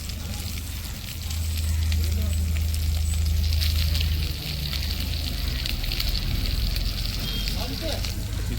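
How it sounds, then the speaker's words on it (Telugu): Marinated fish sizzles on a hot tawa in an outdoor setting, a steady broadband frying hiss that runs continuously at moderate loudness, with a low rumble underneath. "అయితే తవా ఫ్రై చేసేస్తున్నాం"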